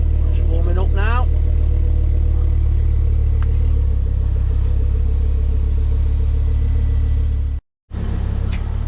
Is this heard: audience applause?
no